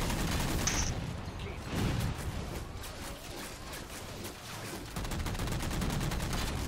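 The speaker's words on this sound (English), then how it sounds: "the main machine gun on the Mantis is not very accurate, and the missiles are almost sort of too accurate" Mantis mech in Halo on the Ragnarok map firing its main machine gun and missiles: dense, continuous rattling gunfire with bursts of blasts and booms, loud and steady throughout with no talk.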